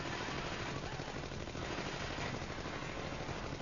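Dense, continuous Gatling gun fire rattles on without a break in the run-and-gun game Wolf of the Battlefield: Commando 3, loud and steady, with no voices.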